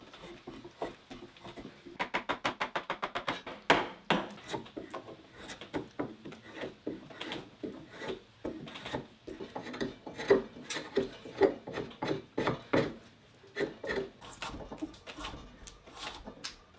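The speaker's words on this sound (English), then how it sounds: "now I'm going to move on to the draw knife and kind of smoothen it out" A draw knife shaves and smooths the wooden head of a handmade firewood splitting mallet, giving a close run of rapid scraping strokes, some quick and clustered, others longer and more spaced.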